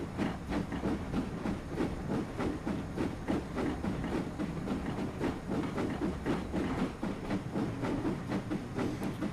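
A Castle class steam locomotive hauls a long train in Train Simulator 2015, with a steady rhythmic chuffing and a rumbling hiss running evenly throughout and no voices.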